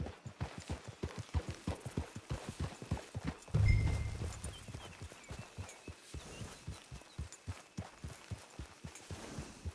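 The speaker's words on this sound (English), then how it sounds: "Get your horse." Horse hooves clip-clop in a PS4 game, a steady rhythmic trot of distinct close hoofbeats, with a brief low rumbling burst midway before the even beat carries on alone.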